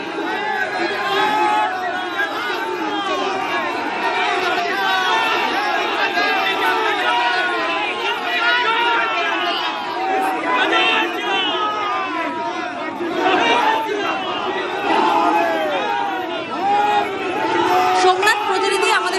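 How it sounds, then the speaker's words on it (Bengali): Rival BJP and TMC party workers shout slogans and counter-slogans as nominations are filed at an administrative office in Chandannagar during the West Bengal assembly election, a dense, loud, continuous crowd of overlapping chanting voices. "দুই দিকে স্লোগান পাল্টা স্লোগান।"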